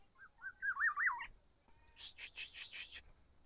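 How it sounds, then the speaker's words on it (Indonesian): Black-naped orioles calling outdoors, a loud clear warbling whistle followed by a run of five quick higher chirping notes, nearby and alone without talk. "Podang, ada berapa ekor ini mas?"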